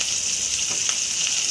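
Onion and pieces of meat fry in oil in a pot, a dense, loud hissing sizzle that runs steadily without a break, close up.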